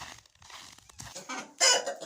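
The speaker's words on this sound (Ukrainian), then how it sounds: "Ось тут кури дружно сидять, зерну вже поїли" Chickens cluck in a close, busy jumble, with a louder burst of squawking near the end.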